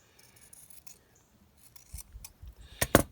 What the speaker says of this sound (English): So I'm going to cut this piece in half.